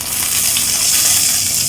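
Nigella seeds crackle and sizzle in hot oil as spices are tempered for a taro root and eggplant dish, a steady, bright, close frying hiss with no talking.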